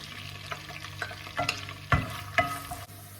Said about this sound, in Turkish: Soğanımız e, kavrulmaya devam ediyor.